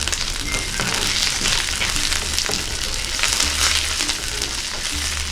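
Curry leaves and green chillies fry with onions in hot oil in a pan, making a loud, continuous close sizzle with no voices over it.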